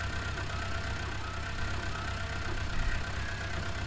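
An Eicher tractor engine idles in Farming Simulator 19, a steady low mechanical drone with a faint even throb, quiet and continuous with no voices.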